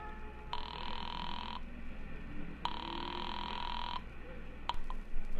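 Telephone ringing on the line after a number is dialed in a radio drama: two long steady electronic rings with a pause between, over a low hum, followed by a click.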